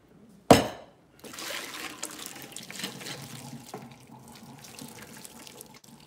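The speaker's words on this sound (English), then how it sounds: "All right, so I'm draining the water," Water from boiled potatoes is poured into a kitchen sink, opening with a sharp clank followed by a steady rushing, splashing stream that keeps flowing, with no one talking.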